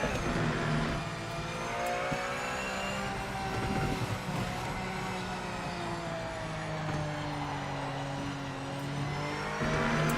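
V8 race car in Project Motor Racing, a sustained engine roar with rising and falling harmonic whine as the car passes and shifts, amid other cars droning on track, loud and continuous throughout.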